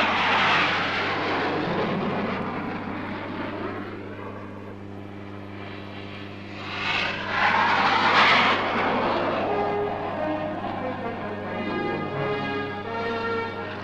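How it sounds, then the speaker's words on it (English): A de Havilland Sea Vixen jet fighter roaring overhead at a 1964 Royal Navy Fleet Air Arm parade, its engine tone rising and sweeping as it passes, loud and sustained over a steady low hum. "the Navy's latest all-weather fighter takes over"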